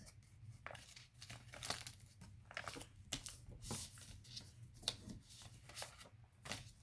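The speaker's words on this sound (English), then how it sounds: "And then fold along this crease." Paper being folded along a crease while making an FM-2 alpha origami piece, heard as close, quiet crinkling, rustling and sharp creasing swipes in irregular bursts, with no talking.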